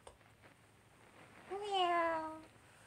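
A single rising-then-falling cat meow, clear and fairly close, over a quiet background.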